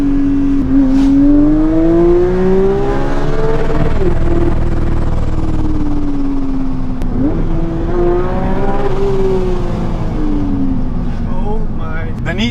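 A BMW G87 M2 sports car engine with a lightweight flywheel revs loudly and climbs quickly in pitch in repeated sweeps, picking up and dropping fast, with someone talking over it.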